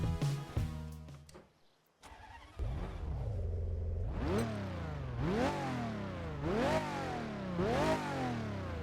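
A Lamborghini engine in the Test Drive Unlimited racing game revs repeatedly, climbing and falling in several loud, close sweeps after a brief quiet dip, with no talking.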